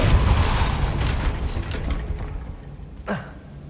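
A Depulso spell is cast in Hogwarts Legacy, heard as a deep rumbling boom that fades away, followed by a short whooshing swipe near the end.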